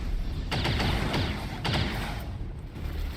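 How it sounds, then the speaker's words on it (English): Fallout: New Vegas firefight, with several rapid volleys of gunshots rattling over a steady background din and no voices in between. "Taking fire over here."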